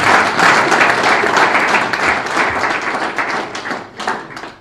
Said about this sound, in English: Do I get a round of applause for that?